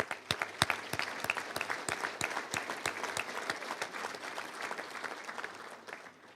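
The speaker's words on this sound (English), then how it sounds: "let's give you a round of applause." Banquet audience applause at a Little Rock Touchdown Club event: dense, sustained clapping from a sizeable crowd with some sharper nearby claps, tapering slightly toward the end.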